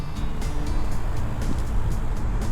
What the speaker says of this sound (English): we're riding along Monroe Street, so you have a couple minutes of hearing, some cars